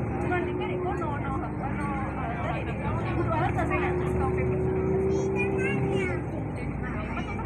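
Inside a Trans Semanggi Corridor 3 city bus in Surabaya, a constant low engine and road rumble runs beneath a person talking throughout.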